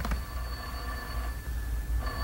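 An old telephone bell rings loud and close, one burst at the start and another near the end, with no talk.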